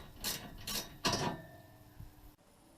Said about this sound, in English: I'm using my favourite new tool, which is a ratchet spanner